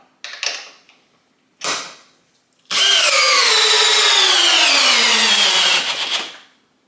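A Milwaukee compact drill on high with a 2 amp hour battery, driving a 1/4 by 5.5 inch lag screw: two short bursts, then a loud sustained whine whose pitch slowly drops as it labours, before stopping.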